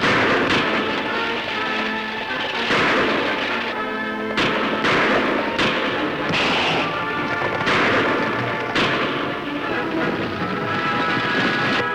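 Western radio drama gunfire: a string of loud, booming shots fired at irregular intervals, close and echoing, with a constant rumbling background between them.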